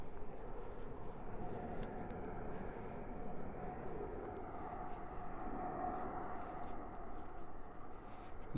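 An aircraft passes near Heathrow airport as a faint, distant, steady engine roar that swells gently over several seconds above a quiet outdoor reservoir setting.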